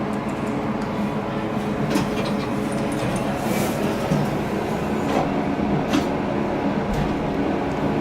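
A vintage Haughton traction elevator at the Moore Hotel in Seattle runs with a steady mechanical rumble and faint rattles. The hum stays constant and fairly close throughout, with no speech.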